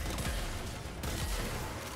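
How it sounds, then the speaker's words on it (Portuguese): Gunfire in the Warframe video game, a rapid, continuous burst of shots over about two seconds, fairly loud and close, with a brief dip near the middle. "Ó, tá tiro aqui dentro, ó."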